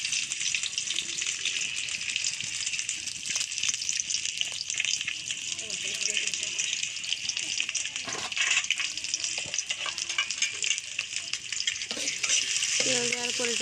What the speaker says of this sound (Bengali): তেল দেওয়ার পরে এটাকে কিছুক্ষণ ভেজে নিতে হবে